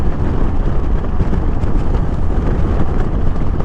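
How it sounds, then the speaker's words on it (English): Heavy wind roars constantly and loudly across the microphone while riding a 2014 Yamaha Roadstar Silverado 1700 motorcycle. The engine is buried under the rushing air and no one speaks. "Currently riding a 2014 Yamaha Roadstar Silverado"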